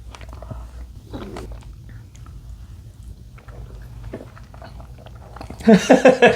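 Juicy snow strawberries being bitten and chewed close to the mic, with faint soft mouth sounds building to a burst of several wet, crunchy bites near the end.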